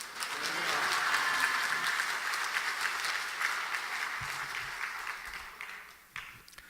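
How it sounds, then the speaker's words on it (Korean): Congregation applauding during a Sunday evening church service, a dense sustained wash of clapping that swells early, holds steady, then thins and tapers off near the end. "나오실 때 우리 박수로 환영하시면서 할렐루야 하십시다."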